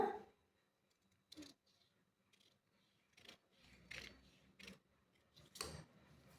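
Scissors cutting paper along a marked line for a baby frock pattern, heard as a handful of faint, separate snips with quiet pauses between them.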